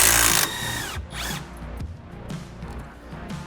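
A power tool, likely an impact driver, loosens the lower shock bolt on a Polaris Ranger XP1000 in one loud whirring burst, followed by quieter ratcheting and clanking of tools and parts.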